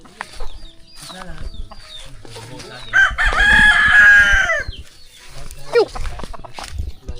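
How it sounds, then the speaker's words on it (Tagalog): A handsome rooster, likely a gamecock, crows once loudly and close by in a Filipino backyard, its long cock-a-doodle-doo rising over nearby chatter and clucking, with people talking before and after. "Gwapong manok, oh"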